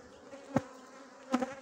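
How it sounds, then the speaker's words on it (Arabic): Bees buzzing near a beehive cover, a steady low hum with two brief louder passes close by, no talk. "راه نحل بدنينا في"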